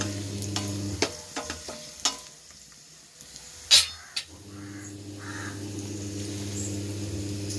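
Ginger and garlic sautéing in a pan for coriander chutney, a low sizzle broken by sharp stirring scrapes and clinks, with a crow cawing faintly in the background.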